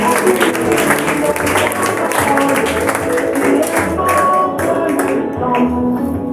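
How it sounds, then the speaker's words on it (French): A church congregation claps for Jesus in a sustained, dense round of applause that holds steady throughout, with voices faintly mixed in. "Acclamez pour Jésus."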